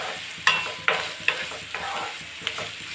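Four medium onions fry in oil in a pan for chicken curry, a steady sizzle broken by several sharp stirring scrapes of a utensil against the pan, close and clear with no voices.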